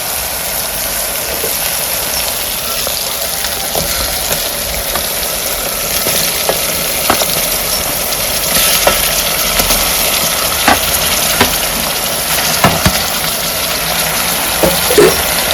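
Raw prawns frying in a pan of softened tomatoes for a Godavari-style prawn and okra curry, a steady close sizzle with scraping stirs and occasional ladle clicks throughout.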